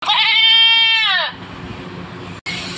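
A young goat kid bleats loudly and close by in one long wavering cry lasting over a second, followed by a quieter outdoor background.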